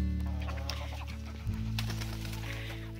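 Rooster clucking at dusk on a small farm, a few short calls over a steady low hum, close but fairly quiet, with no one talking.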